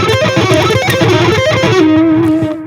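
Ukulele played fast through a distortion effect, a shred-style lick with sustained, buzzy, overdriven notes that ring out for a few seconds and then cut off.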